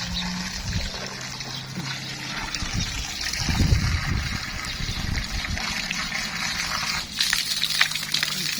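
Water from an opened tap runs steadily into a tank, a continuous close trickling and gushing with a few louder splashes partway through.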